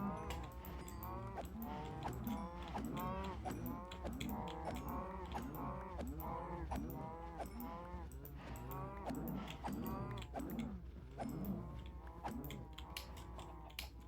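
A herd of cows on a Minecraft-style video game farm moos over and over, with calls overlapping and following one another nonstop. The moos are loud and close throughout, with no talk.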